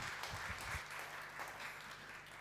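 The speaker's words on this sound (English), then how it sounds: "So round of applause to our speakers" An audience claps for speakers at a talk on collaboration, a steady spread of applause heard faintly from a distance, with a low hum and a few thumps near the start.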